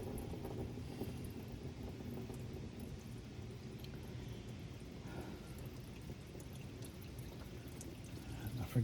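Fuel gushes out of an extremely rusty F600 pickup fuel tank as a faint, steady rushing flow that lasts throughout.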